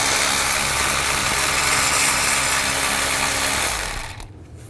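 A power socket wrench whirs steadily and loudly while backing out the radiator fan bolts on a 2010–2017 Chevrolet Equinox, then cuts off abruptly near the end, leaving quiet.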